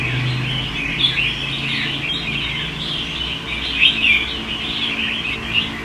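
Songbirds kept as pets chirp and tweet in repeated bright bursts, several calls overlapping fairly close by against a steady low background hum, with no voices.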